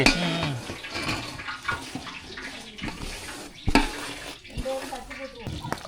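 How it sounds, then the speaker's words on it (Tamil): Sambar spice powders are stirred into water to dissolve for sambar rice, making continuous close sloshing and splashing with a couple of louder knocks, while voices murmur faintly underneath. "எல்லாம் கரைச்சி அதை சாம்பார் சாதத்தோட சேர்த்துக்கலாம் தண்ணியில் கரைச்சிக்கோமா"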